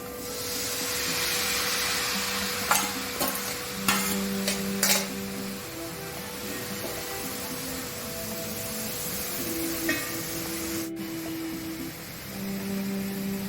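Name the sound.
cut elephant foot yam flower added to sizzling masala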